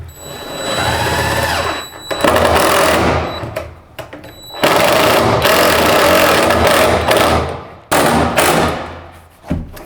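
A power drill drives small drywall screws into a 4-square electrical box in several loud close bursts of whirring, with brief gaps and clunks between them.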